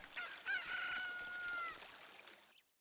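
Chicken in Zelda: Ocarina of Time lets out a single drawn-out, crowing squawk, fairly clear and alone, before cutting off abruptly.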